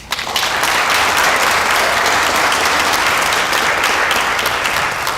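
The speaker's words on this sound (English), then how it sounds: "So big round of applause for them." Town hall audience breaking into dense, sustained applause that rises quickly and holds at a loud, even level, a full room of clapping hands with no voices standing out.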